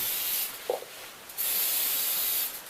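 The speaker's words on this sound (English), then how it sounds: "it doesn't hurt to just kind of spray this down" Short bursts of aerosol spray hiss up close onto a hand ice auger, a couple of long sprays separated by a brief pause and a small clunk.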